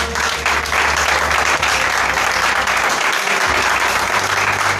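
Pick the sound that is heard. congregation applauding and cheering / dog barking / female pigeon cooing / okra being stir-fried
congregation applauding and cheering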